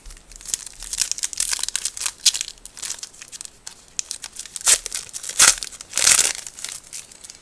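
A World of Warcraft TCG booster pack wrapper is torn open with crinkling, ripping foil in uneven bursts. Several sharper tears stand out near the end, close and fairly quiet, with no voices.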